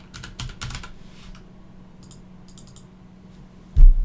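Close typing on a computer keyboard, a quick burst of clicking keystrokes at the start, scattered lighter taps after, and one sharp louder key press near the end.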